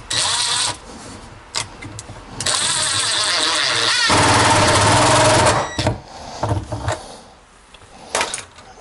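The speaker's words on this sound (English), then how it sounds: "start drilling the holes using the Craig pocket hole jig." A power drill bores pocket holes through a Kreg jig clamped to wood for a miter station build. Short revs come first, then a long, loud whine of cutting, followed by brief bursts and clatter nearby.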